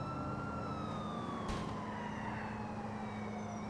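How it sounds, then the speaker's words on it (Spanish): Police car sirens wail in GTA IV as a mass police pursuit unfolds, steady overlapping siren tones sustained throughout alongside a low engine rumble, with no speech. "Mientras nos persiguen 200 patrullas."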